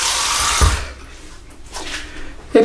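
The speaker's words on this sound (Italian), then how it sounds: "vado solo a idratare il viso sempre con acqua tiepida" Lukewarm tap water running into a sink while a face is rinsed before shaving, a loud hiss of flowing water that cuts off after about half a second, then quiet splashes and dripping before the tap gushes again.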